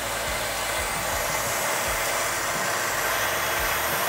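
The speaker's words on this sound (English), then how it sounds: "just hold the in button on the remote and that'll start winching your rope in." A Borne Off-Road winch spools rope in with a continuous, even electric motor whine and hum, close and steady throughout with no talking.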